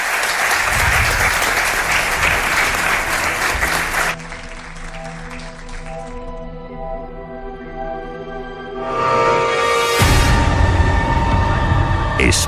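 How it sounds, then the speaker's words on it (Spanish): A studio audience applauds briefly and loudly at first, then the clapping drops away beneath a musical radio jingle that rises toward the end. "Pido un aplauso para Paloma Navarrete."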